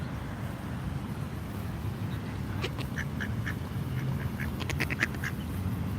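A duck quacking outdoors in Washington DC, a short burst of several raspy quacks in quick succession partway through, moderately near over a low rumble of wind and distant traffic.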